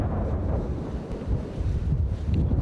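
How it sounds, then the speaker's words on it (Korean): Strong mountain wind over 15 m/s roars steadily and gusts against the microphone in a winter blizzard on Jirisan, a deep, continuous rumble with no voices. "바람 소리가 심상치 않다."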